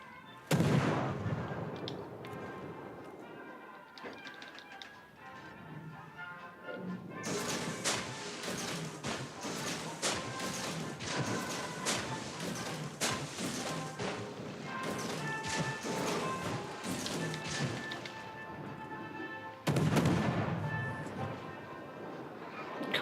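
Battleship guns firing in the naval game World of Warships: Legends, a dense barrage of booming salvos and rapid cracking shots that thickens midway, with heavy blasts near the start and end over a rumbling battle background.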